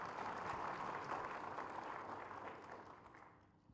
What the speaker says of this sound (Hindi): भरपूर तालियों की मुस्तहिक।